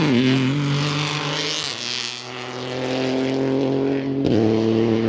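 A rally car roars past on a country road at a sharp ninety-degree corner among spectators, its engine loud and close with steady harmonic drone, a brief lift around two seconds, then a sudden renewed surge near the end.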